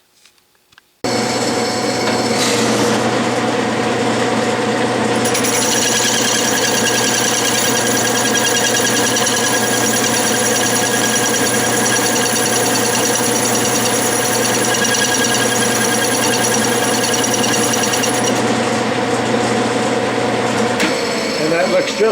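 A metal lathe with a carbide tool takes a final finishing cut on a Stuart steam engine part, a loud, steady machining drone with constant tonal whine that starts abruptly, runs about twenty seconds, then stops.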